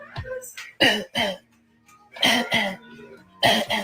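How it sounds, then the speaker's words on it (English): A series of short, sharp coughs in quick bursts, close by, in two clusters separated by a brief pause. "They will really cough on you as if they don't know that that's nasty."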